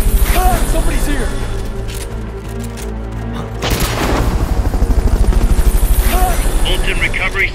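Loud, continuous helicopter rotor chopping with engine roar in the video game Metal Gear Solid: Peace Walker, mixed with booming impacts, as a voice speaks over the din.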